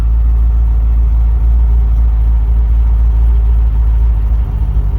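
LS-swapped Nissan 240SX with a T56 manual gearbox idles loudly up close as it creeps backward out of a garage, a deep, steady engine rumble with a slight dip near the end and no talking.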